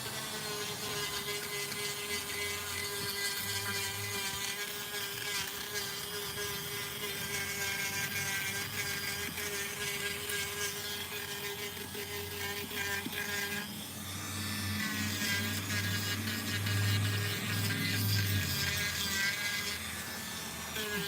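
A Dremel rotary tool whines steadily as it carves, a continuous high-pitched buzz with a low hum under it that deepens and grows louder partway through as it bites harder.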